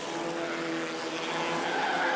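Race cars, including Porsches, roar past at speed through a bend at Shannonville in 1990, a steady loud engine wash with a hint of tire noise, no voices.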